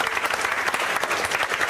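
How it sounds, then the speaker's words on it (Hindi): A classroom audience at a congratulatory session in India bursts into dense, energetic applause, with steady overlapping clapping filling the short moment. "इसके लिए जोरदार तालियां।"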